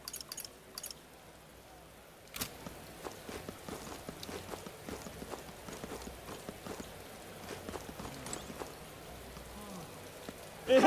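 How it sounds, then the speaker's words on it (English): Rain patters steadily in the fantasy video game Metaphor ReFantazio, mixed with clopping footsteps on a hard surface, a constant soft wash punctuated by sharp taps, faint speech nearly absent. "Rain? Bloody hell."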